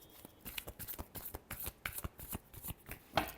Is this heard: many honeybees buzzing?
no